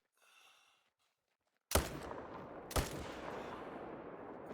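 A hunting rifle in the video game Call of the Wild fires two sharp, booming shots about a second apart after near silence, each leaving a lingering rumble.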